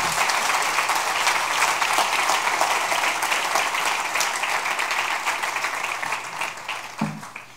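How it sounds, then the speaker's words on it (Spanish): A church congregation breaks into sustained, loud applause that holds steady, then thins out toward the end. "Denle un aplauso al Rey."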